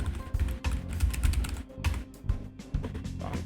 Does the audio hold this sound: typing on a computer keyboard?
yes